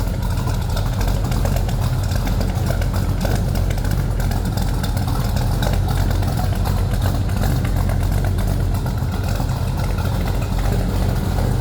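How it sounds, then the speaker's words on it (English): The 350 Blueprint engine in a 1969 Chevrolet Chevelle Malibu two-door hardtop idles with a steady, close, low rumble that holds evenly throughout without revving or talk. "Here's a little rumble coming out of that 350 Blueprint engine."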